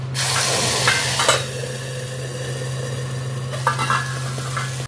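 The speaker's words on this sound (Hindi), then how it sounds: "बचे हुए गरम तेल में हींग का तड़का लगाया और साथ ही इसमें डाल दिया मटर का पेस्ट।" Steady, loud sizzling of pea paste frying in hot oil with asafoetida, with a couple of brief stirring scrapes partway through.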